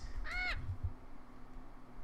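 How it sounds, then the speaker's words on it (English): A bird in the Minecraft Crazy Craft modpack gives one short, harsh, squawking parrot-like call near the start, then quiet game ambience follows. "I heard weird parrot noises from the birds"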